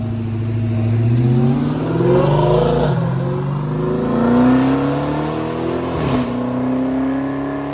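An Aston Martin at an exotic car show revs loudly and close, its engine pitch climbing and falling in sustained sweeps, with a sharp blip near the end.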